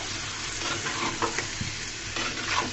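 Pumpkin pieces stirred into a fried spice masala in oil, a steady close sizzle broken by scraping stirs and a few soft knocks of the spoon against the pan, no voices.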